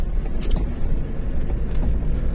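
A car drives along a wet winter road with snow around, giving a steady low rumble of engine and tyre noise on damp tarmac, close and continuous, with a brief brighter hiss early on.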